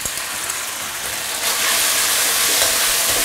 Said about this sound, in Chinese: 下入肉丝， 开大火去翻炒它